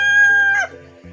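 A rooster crows loudly and close by, one sustained strained call that breaks off abruptly, followed by a brief lower sound.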